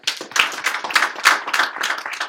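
A small group applauds for Zach, quick irregular handclaps at close range forming a short, lively burst.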